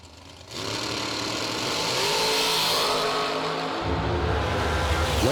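Drag racing cars sit on the starting line and launch. Engine noise jumps from a lower idle into a loud, sustained roar, and a deeper, heavier surge of engine sound follows near the end.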